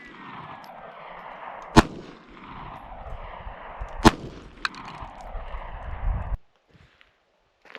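Gunshots fired at Level 4 body armor plates on an outdoor range: three sharp reports, two loud and one quicker and fainter, stand out over steady background rumble and handling noise.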